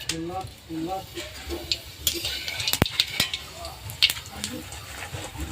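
Whole cumin seeds are added to hot oil in a wok while a pickle is being made. Light crackling and sizzling follow, with a few sharp metallic clinks and someone talking over it.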